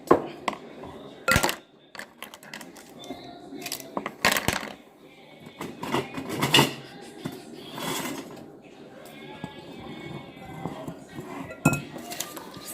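Chocolate chip cookie ingredients are mixed in a bowl, with irregular clinks and scrapes of a utensil against the bowl and a voice talking now and then.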